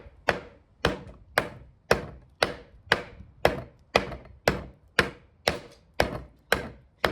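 Sharp woody chops strike about every half second, fourteen steady blows of a Camillus BK1 Brute knife biting into wood, close and crisp with quick decays.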